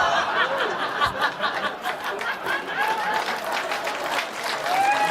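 Comedy club audience breaking into applause during a stand-up set, sustained clapping mixed with scattered chuckles and laughter, with a voice talking over the crowd.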